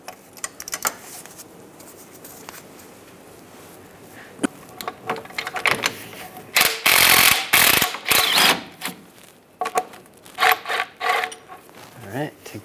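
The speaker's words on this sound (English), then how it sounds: "Now I'm going to remove that stud using an 18mm socket." Ratchet wrench with an 18mm socket loosening a stud during starter replacement on a 1998-2010 Volkswagen Beetle, heard as bursts of quick clicking and metallic rattling, loudest midway, with scattered handling noises.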